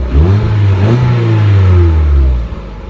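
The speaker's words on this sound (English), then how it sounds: "I want to hear how the exhaust sounds first." A Ford Fiesta with an aftermarket exhaust revving hard at close range, one sustained loud rise and hold of engine drone that drops off toward the end.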